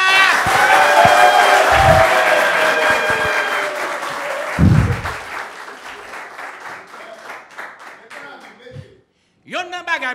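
Audience at a Bicha Show comedy performance breaks into loud applause with cheering and whoops, sustained for several seconds before thinning out; a voice briefly speaks over the fading claps near the end.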